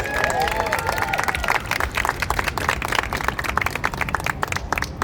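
An audience applauds a team of museum curators and artisans with a full round of dense clapping. It is loud and sustained across the whole stretch, with a few voices and murmurs mixed in near the start.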